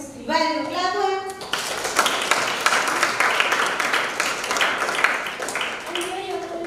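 Sixth-grade students in a maths classroom break into a burst of enthusiastic clapping that lasts several seconds. A voice is heard briefly before and after it.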